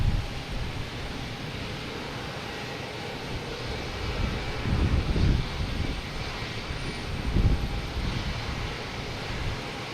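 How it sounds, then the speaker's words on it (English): A JetBlue Airbus A220 taking off at Boston Logan Airport, heard as a broad distant engine roar swelling and rumbling with wind noise, no talk. "next to take off will be JetBlue A220 heading to JFK."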